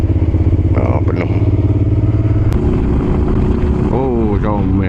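Motorcycle engine droning steadily throughout a solo ride through hilly country roads, loud and close with wind buffeting, a gear or throttle change partway through, and someone talking over it.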